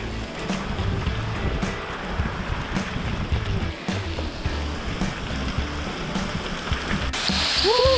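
Loud, steady roar of rushing water close by, a continuous broadband wash from a waterfall on Bolivia's Death Road during a bicycle tour, with a few sharp knocks and a brief squeak near the end.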